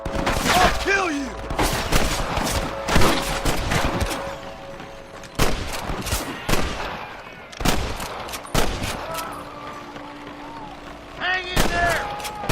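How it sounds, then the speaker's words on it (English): Rapid bursts of gunfire crack out repeatedly, loud and close, with shouting voices mixed in between the volleys. "I can hear more gunshots."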